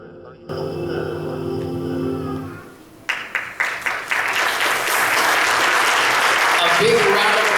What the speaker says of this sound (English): A big round of applause to our young adults.